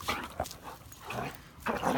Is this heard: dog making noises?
yes